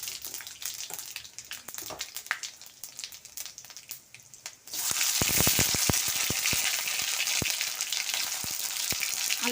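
Dried red chilli, bay leaf and five-spice tempering frying in hot oil: a crackling sizzle with sharp pops that jumps to a louder, denser hiss midway, close and continuous with no talking.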